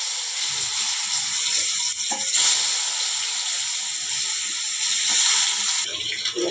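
Potatoes frying in a pan with black cumin, chili and sun-dried lentil dumplings, producing a steady, close, rushing sizzle that holds level throughout with slight surges, no talk.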